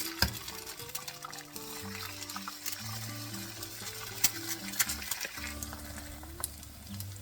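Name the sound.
eggs cracked into hot oil frying in a pan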